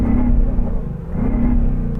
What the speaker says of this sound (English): going to rev up this beautiful English-built V8